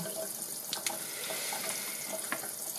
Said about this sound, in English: Turn on your tap, your hot water jug just needs a quick rinse